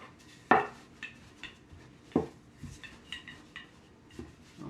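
Gluten-free ravioli dough is rolled out on a floured surface with a pasta rolling pin. Quiet, irregular knocks and taps come as the pin shifts and lifts, with soft rolling between them. The sound is close but faint, with no talk.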